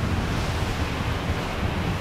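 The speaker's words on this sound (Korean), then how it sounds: "조금이라도 바람이 세게 부는 날이면 카파도 앞바다는 거칠게 성을 낸다." Rough sea off Gapado island whipped up by strong wind, a steady loud roar of surf and wind buffeting the microphone, with no voices.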